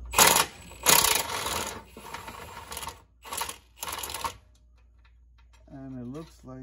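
A 17 mm wrench on a Toyota Solara rack and pinion nut is struck by hand in several sharp metallic bangs with uneven gaps, close and loud, and a voice comes in at the end.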